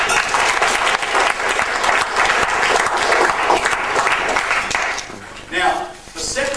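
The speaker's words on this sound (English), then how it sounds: "So please give Kingsley a round of applause" Sustained audience applause for Kingsley during a talk on personal space fills the room loudly and evenly, tapering off near the end with a brief swell, and voices can be heard beneath the clapping.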